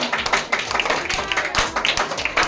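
Studio audience at a Hindi television quiz show claps for a correct answer, a close, fairly loud burst of uneven hand claps with some tapping, lasting a couple of seconds.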